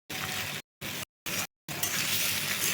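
Potatoes frying in a pan with black cumin and a paste of poppy seeds and green chili, a steady close sizzle broken by a few abrupt silent cuts, then resuming with bubbling and faint stirring.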